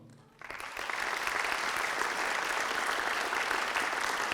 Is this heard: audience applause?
yes